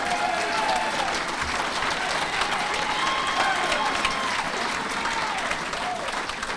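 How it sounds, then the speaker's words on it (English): Sustained applause from an audience at a sports hall of fame induction ceremony, steady dense clapping throughout at moderate loudness with faint voices mixed in. "Go ahead and clap"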